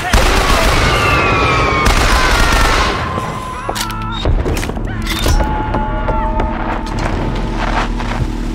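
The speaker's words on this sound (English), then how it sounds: "Gunshots!" Gunfire in the game BioShock Infinite, with loud bursts of rapid shots and booms over a dense, noisy background, followed by scattered sharper cracks and lingering tones.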